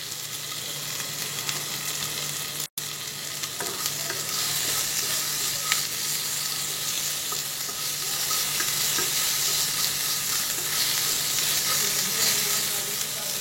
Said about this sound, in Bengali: সমস্ত উপকরণগুলো এবার মিশিয়ে দিচ্ছি ভালো করে।